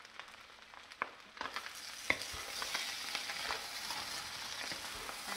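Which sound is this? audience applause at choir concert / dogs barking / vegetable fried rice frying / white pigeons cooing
vegetable fried rice frying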